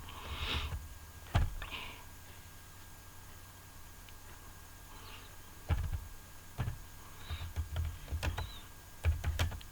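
Someone types on a computer keyboard in irregular clusters of clicks and key taps, with quiet pauses between bursts and no speech over them.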